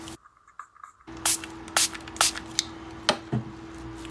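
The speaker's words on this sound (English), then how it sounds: "I'm just going to spray some puddles" A spray bottle fires several short, sharp bursts of mist onto fabric, spaced irregularly, close by against a faint steady hum.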